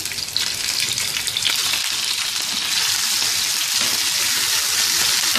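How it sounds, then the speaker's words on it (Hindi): Goat mutton chops frying with garlic ginger paste on a tawa, a steady, dense sizzle that stays loud and close throughout, with no voices. "1-2 मिनट सौते करेंगे। अब इसमें शामिल कर देंगे 400 ग्राम चाम बकरे की।"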